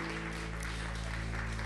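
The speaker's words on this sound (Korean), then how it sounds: "그렇게 하신 하나님 앞에 우리 박수로 함께 영광 올려드리도록 하겠습니다" Church congregation at a Wednesday service applauding together, a dense, steady wash of clapping held at even loudness throughout with a low hum underneath.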